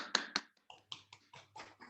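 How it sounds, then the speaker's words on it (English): Children clap their hands in a short run of sharp, separate claps, two loud near ones at the start and then softer, uneven claps, with no talk. "Can I see everybody clapping?"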